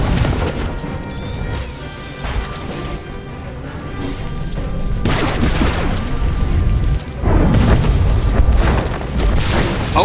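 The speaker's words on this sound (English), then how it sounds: "the knight detonates the research terminal. This explosion finished off the jungle crawlers" A detonated research terminal explodes in Star Wars: The Old Republic, a loud stretch of booming blasts and crashing debris that keeps rumbling across the scene, with a second heavy burst near the end.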